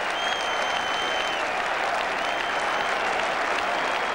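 Thousands of cricket spectators applaud a wicket during the 1981 Ashes, a dense, steady roar of clapping from a large stadium crowd with whistles rising above it.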